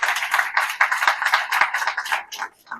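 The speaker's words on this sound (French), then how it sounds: "Comme ça, il y aura eu des applaudissements dans cette session." Audience at a conference in a convention centre applauding the event's sponsors, a dense burst of many hands clapping that holds steady, then thins and fades out near the end.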